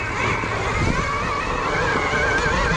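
A hare scramble dirt bike climbs a hill, its engine droning loud and steady under heavy wind buffeting for the whole stretch.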